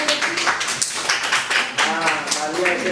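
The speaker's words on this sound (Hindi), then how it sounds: "क्लैप कर दो यार। क्लैप कर दो।" An audience at a National Youth Day awareness program claps in scattered, uneven bursts, mixed with people talking over the applause.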